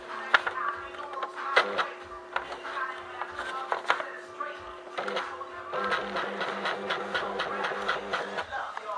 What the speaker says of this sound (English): We need paper on our printer.